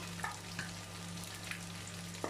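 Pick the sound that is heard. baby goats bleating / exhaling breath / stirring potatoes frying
stirring potatoes frying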